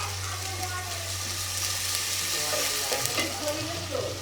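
Garlic paste, added after ginger paste, frying in hot oil in a pan while being stirred, giving a steady loud sizzle with scraping strokes and a constant low hum underneath, no speech.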